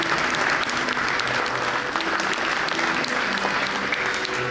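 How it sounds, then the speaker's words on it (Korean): Steady applause from a ceremony audience at an honorary doctorate conferral in art history at Myongji University, sustained at an even level throughout with a faint murmur of the crowd beneath. "모두 큰 박수로 축하해 주시기 바랍니다"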